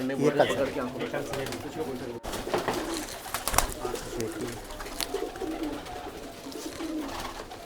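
White pigeons coo softly and repeatedly in the background while people talk over them nearby.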